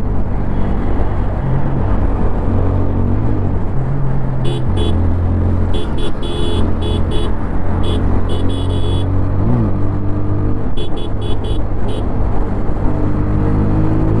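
A 2024 TVS Apache RTR 160 4V motorcycle drones steadily close by while riding, its engine note stepping up and down through gear changes, with wind noise over the top.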